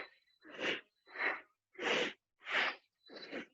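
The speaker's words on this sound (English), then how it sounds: "So we're going to create this little breath of fire." Rapid forceful breaths in yoga breath of fire practice, five sharp bursts of breathing at a steady rhythm, close and clear with short gaps between them.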